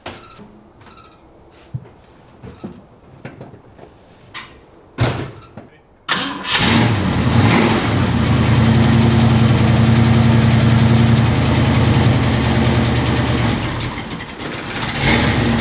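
A hot rod's engine cranks and fires, then settles into a loud, steady, rumbling idle held close by. People talk briefly beforehand, with knocks and handling sounds.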